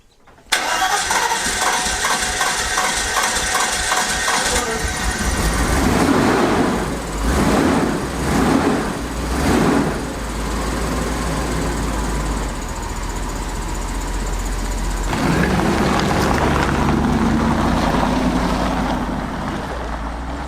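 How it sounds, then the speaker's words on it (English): An old, cheap German convertible with an accelerator pump cranks and catches after a couple of tries, then settles into a steady, rough idle nearby with a few revs, no speech heard. "the mechanic says you do have an accelerator pump, so it takes a couple tries to start it"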